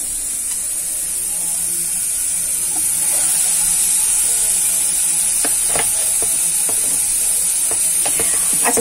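Vinegar-and-salt-marinated chicken pieces laid one by one into a nonstick pan without oil, hissing steadily and growing louder, with sharp spattering crackles and pops coming through in the second half.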